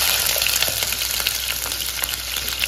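Onions, green chillies and curry leaves sizzle steadily in hot oil, a dense, continuous crackling fry heard up close with no talking.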